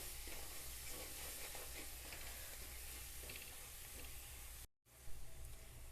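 Kashmiri red chilli powder is stirred into garlic chutney in a pan over a medium flame, giving a steady soft sizzle and scraping hiss with a brief cut partway through.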